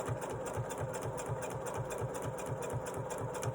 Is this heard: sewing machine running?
yes